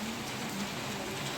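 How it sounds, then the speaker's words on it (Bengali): Steady evening rain falls on surfaces, accompanied by a gentle breeze, forming a continuous dense hiss with no voices. "এই সন্ধ্যায় বৃষ্টি ও মৃদু বাতাস মন ও প্রাণ দুটোই জুড়িয়ে দিল"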